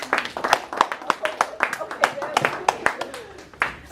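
Scattered, uneven clapping from a live audience at a Moth storytelling show, with some voices mixed in under the claps.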